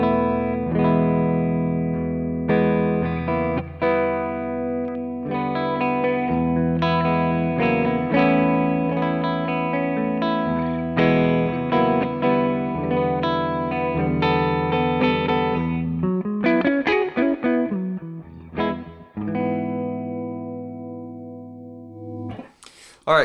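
Electric guitar played through an amp with the boost pedal bypassed and reverb added, loud sustained chords and riffs ringing out with a reverberant tail and a few pauses near the end.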